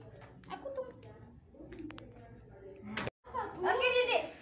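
A pigeon or dove coos in a few soft, low phrases among scattered voices of children and adults chatting and laughing nearby.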